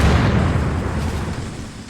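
Artillery explosions rumble through a Graviteam Tactics battle set in 1986 Africa, a dense, loud, continuous barrage of booms that slowly fades over two seconds.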